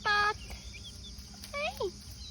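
Frizzle chickens, a rooster and two hens, cluck and call in two short bursts near the microphone, with quiet gaps between them.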